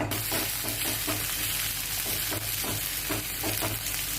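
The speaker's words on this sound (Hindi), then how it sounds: "जब तक चीनी ब्राउन नहीं होती तब तक इसको हम चलाते रहेंगे।" Sugar browns in hot oil in a pan for Bengali kosha mangsho, a steady close sizzle and crackle with regular scraping stirring strokes.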